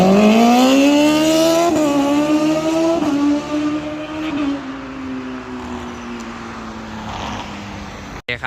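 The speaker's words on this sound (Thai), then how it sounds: "ใช้งานได้ก็เสียงสับเกียร์ก็จะประมาณนั้นนะ ตามที่เพื่อนๆ พี่ๆ ได้ยินนะครับผม" A Honda CBR1000RR engine fitted with an ENDSER quickshifter revs hard and close, its pitch dropping in quick steps with each upshift before it winds down and cuts off.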